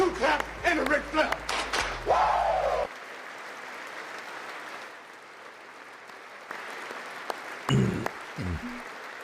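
Applause from a crowd at a State of the Union address, a steady wash of clapping that runs under and between a man's speech.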